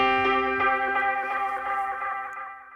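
Keys run through a modulated tube delay effect ring out as a sustained, shimmering tone with wavering, oscillating repeats that slowly fade over a few seconds, heard alone without talk.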